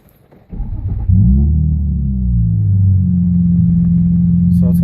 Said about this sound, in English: I'll go ahead and start the car up.